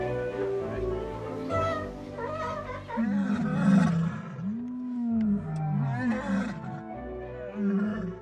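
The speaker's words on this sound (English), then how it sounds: "you can hear the lions roaring from over there" Lions roar at Longleat safari park, a series of deep, drawn-out moaning roars that rise and fall, some swelling loud and close, with other animal calls and faint chatter around them.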